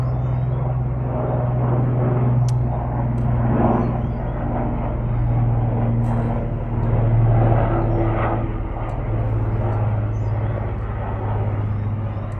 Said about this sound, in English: I'll wait until the helicopter goes by.